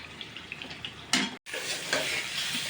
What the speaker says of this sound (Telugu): వంకాయలు చక్కగా వేగిపోయాయి.